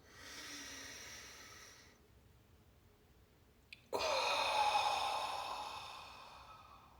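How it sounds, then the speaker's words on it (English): Deep breath drawn in during a guided meditation practice: a soft airy exhale fades, a pause of near silence, then a sharp loud inhale rushes in and continues as a long breathy draw, close up with no talking. "Let's take a deep inhale, please."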